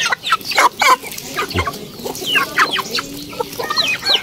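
Half-breed Brahma native chickens cluck and chatter during feeding, with bursts of close, busy clucking and short calls repeating across the clip, no voices present.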